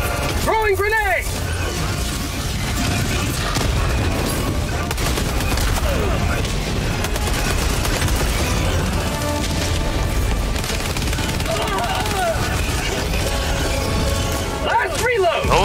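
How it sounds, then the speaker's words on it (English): Grenade blast and heavy gunfire in the video game Helldivers 2, dense continuous shooting and booms throughout, with a few brief voice calls cutting through the battle noise. "Throwing grenade!"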